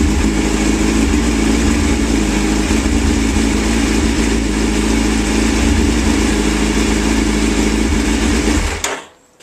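A Suzuki Hayabusa motorcycle engine on its side stand spins over and runs loudly and steadily for several seconds during a coolant change, then cuts off abruptly into quiet.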